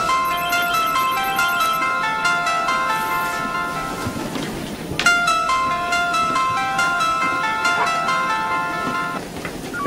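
A melodic electronic ringtone plays a repeating tune, loud and close, pausing briefly midway before starting again.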